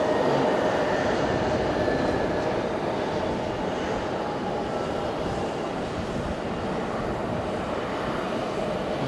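A Tiger Air airliner at Fukuoka Airport produces a loud, steady jet roar that fills the whole stretch evenly, a constant broadband rush with a faint whine on top and no talking.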